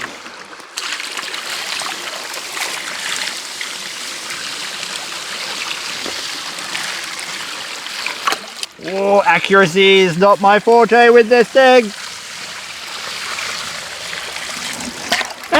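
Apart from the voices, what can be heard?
water poured through a DIY gold mining sluice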